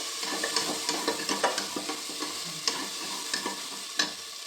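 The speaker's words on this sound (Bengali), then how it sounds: "আর একবার কষিয়ে নেবো।" Cumin and coriander paste sautéed in a pan for an egg and cabbage dish, a constant sizzle broken by quick rhythmic spatula scrapes and taps, close and without talk.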